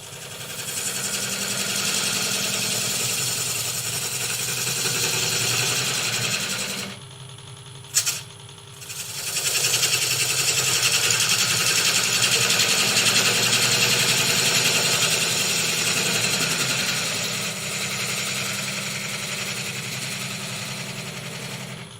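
A wood lathe whirs steadily while a small bowl gouge cuts a glued vase blank, a close continuous buzzing drone that drops out briefly near the middle before resuming.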